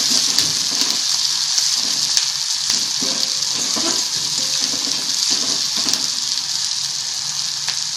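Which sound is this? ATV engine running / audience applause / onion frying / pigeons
onion frying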